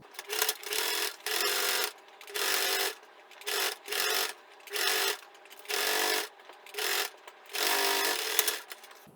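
A sewing machine quilting straight lines through fabric runs in short, even bursts with brief pauses between them, its needle chatter close and loud with no talking.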